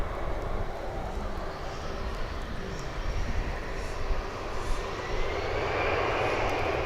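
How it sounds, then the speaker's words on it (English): An American Airlines Airbus A319 jet on the airfield at DFW airport makes a steady, loud engine roar that holds for the whole stretch, swelling slightly near the end, with no voices. "Looks like we've got an A319 on the flight line"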